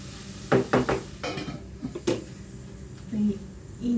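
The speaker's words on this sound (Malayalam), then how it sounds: "ബീഫിന് ഉള്ളി വഴറ്റിക്കൊണ്ടിരിക്കും കേട്ടോ" Onions sautéing in a pan for beef curry, with a few sharp clanks of a utensil against the pan early on and a soft sizzle in the gaps, close and moderately loud.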